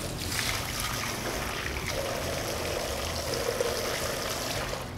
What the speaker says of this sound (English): now what we need to do is purge out the sanitizer, any air, etc. that's built up in the line